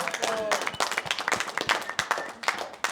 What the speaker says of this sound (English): let's get a round of applause one more time for Mint Tours